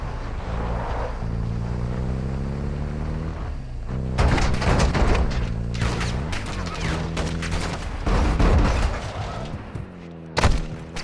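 Bursts of gunfire ring out in a Call of Duty hostage-rescue mission, loud rapid volleys starting about four seconds in and continuing in clusters over a droning engine-like hum, with a sharp final crack near the end.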